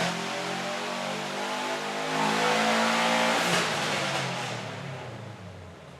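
A Subaru WRX engine being tuned revs up loudly, its pitch climbing steadily, holding high, then easing down toward idle, close by with no talking.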